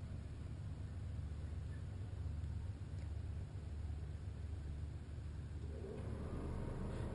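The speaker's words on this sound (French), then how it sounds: "Voilà, la fournaise s'est mise en route." A Bigfoot camper's furnace starts up, producing a faint, steady low rumble and whir that holds evenly and swells slightly near the end, with no voices.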